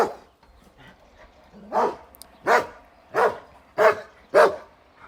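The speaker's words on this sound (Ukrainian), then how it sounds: "То мій пес гавкає." A dog barks five times in a steady, evenly spaced series, fairly close and loud, with quiet background between the barks.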